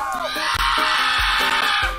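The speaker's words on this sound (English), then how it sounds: "That's right, everyone scream." Shrill screams from characters in the Goat Simulator video game, loud and sustained across the moment with brief breaks, over game sound effects and a player talking.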